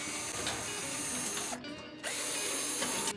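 A power driver backs 5/16 screws out of a dryer's burner assembly, a loud continuous whirring drone that stops briefly, then resumes near the microphone.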